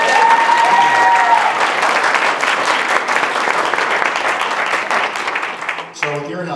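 An audience at a charity kick-off event in a ministry hall claps loudly in a dense, continuous round of applause that fades after several seconds.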